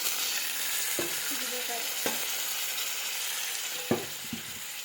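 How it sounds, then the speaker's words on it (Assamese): Vegetables sizzle and simmer in a pan after a little water is added, a steady hiss with a few sharp spoon or stirring clicks standing out. "দেখিছেনে উতলি আছে"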